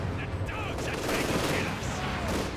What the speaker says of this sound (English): So the light machine gun is then going to tear into them point blank. And a mortar round as well.